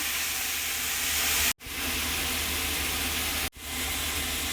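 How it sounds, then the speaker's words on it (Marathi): Tomatoes and paste frying in a pan for pav bhaji make a loud, continuous close hiss and sizzle that cuts out abruptly twice for a moment before resuming, with no talking. "दोन्ही ते टमाटर आणि पेस्ट व्यवस्थित फ्राय होते."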